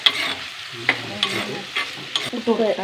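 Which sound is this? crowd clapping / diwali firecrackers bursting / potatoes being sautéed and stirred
potatoes being sautéed and stirred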